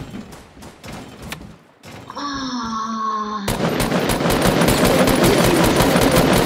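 A minigun firing in a video game: after scattered shots, a whining spin-up tone rises, then a dense, loud, continuous roar of rapid fire takes over.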